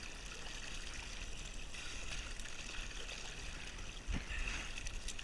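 Water trickles and dribbles off the side of a sucker tube being lifted during nighttime beach gold hunting, a faint, steady running-water wash with a brief louder splash near the end.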